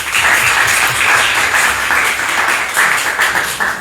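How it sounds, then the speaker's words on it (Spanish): An audience at an academic lecture panel gives a speaker a warm round of applause, sustained many-handed clapping that stays loud and even with slight swells, no talking over it. "Damos un aplauso, por favor."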